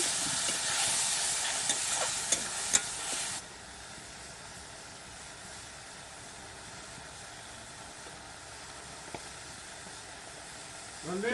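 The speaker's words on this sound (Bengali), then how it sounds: "এই যে এবার দিয়ে দিল লঙ্কা, আদা, রসুন সবগুলো একগুলো পেস্ট করে এবার একটু নাড়িয়ে দিচ্ছে।" A paste of chilli, ginger and garlic hits hot oil for a chicken skin curry with a loud sizzling burst and scrapes of stirring for about three seconds, then the frying settles into a much quieter, steady hiss.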